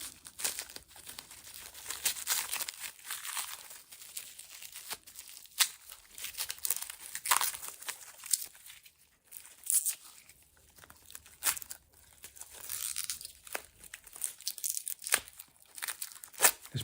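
Plastic packaging around a Trochilus harmonica in the key of A is unwrapped, giving close, persistent crinkling and tearing with irregular crackles and rustles throughout.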